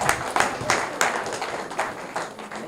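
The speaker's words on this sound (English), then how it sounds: "Can we give her a round of applause?" Scattered handclaps from an audience at a youth summit in Nigeria greet a guest of honor, a few sharp bursts rising over a thin, uneven background of clapping that fades out.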